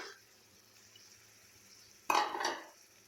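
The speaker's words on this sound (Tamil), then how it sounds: "இப்போ தக்காளி வதங்கிடுச்சு நம்ம எடுத்து வச்சுருக்க வெண்டைக்காய் இதில் சேர்த்துடலாம்" Sliced okra is tipped into a frying pan of softened tomatoes, giving a sudden clatter and brief sizzle after a quiet stretch, then fading within half a second.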